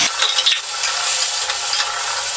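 Chopped bottle gourd leaves being stirred in a frying pan, a steady close sizzle with soft scraping and a few light clinks of the spatula against the pan throughout.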